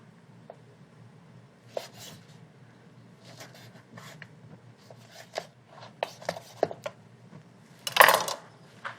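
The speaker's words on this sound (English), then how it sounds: "So let me just cut a small piece." A knife cutting pancetta on a cutting board, with scattered light taps and scrapes spread across the stretch and one louder clack near the end.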